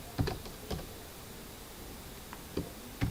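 A few scattered keys tap on a computer keyboard, faint and close, with quiet pauses between the clicks.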